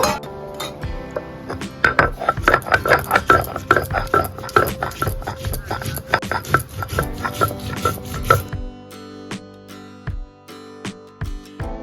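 Mustard seeds, white and black, are ground with green chillies on a stone slab. The grinding stone knocks and scrapes in a dense, rapid rhythm, close and loud, then gives way to quieter scattered taps near the end.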